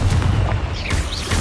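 A Confringo blasting spell explodes in Hogwarts Legacy on PS5, a dense, loud burst of booming game combat noise with rumbling low end and whooshing effects, sustained across the moment with no talk.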